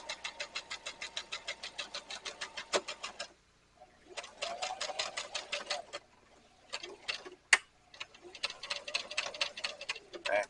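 A sewing machine stitches leather on an upcycled tote bag in several bursts of rapid, even needle ticking, separated by short pauses and a few sharp clicks, heard close and fairly quiet.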